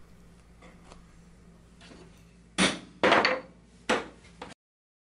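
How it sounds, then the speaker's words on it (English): A few sharp raps of a hammer on a chisel squaring the edge of a groove in a wooden box top, three or four loud strikes close by, with quiet room noise before them. "a slight rap with a hammer will give you a good square edge"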